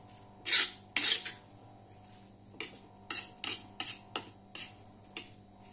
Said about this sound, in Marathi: आता हे सगळं एकजीव करून घेऊया।